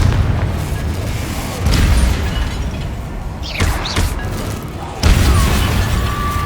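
Confringo fire spell blasts in Hogwarts Legacy burst loudly amid combat, with heavy booming impacts, whooshing streaks and a sharp crash near the end, layered over continuous battle noise.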